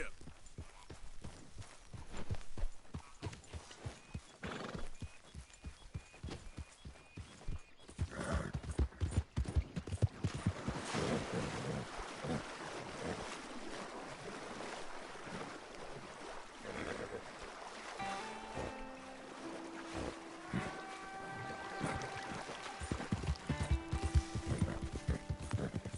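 A horse in the video game Red Dead Redemption 2 clip-clops in fast, rhythmic hoofbeats with a whinny, mixed with wind and ambient game sounds, and a brief musical sting near the end.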